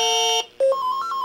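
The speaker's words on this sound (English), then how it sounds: "Music sounds good, traditional Xevious music." Traditional Xevious game music from a Commodore Amiga through its A10 speakers: a short, thin, beeping electronic tune of steady pitched tones with a brief dip partway through, played without any voices.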